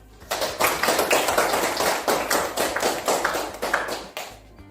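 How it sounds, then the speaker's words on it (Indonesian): A classroom group gives a short burst of clapping for the work groups, distinct rhythmic hand claps from a small number of people, close and fairly even, stopping abruptly. "Marilah kita kasih tepuk tangan untuk kelompok semua"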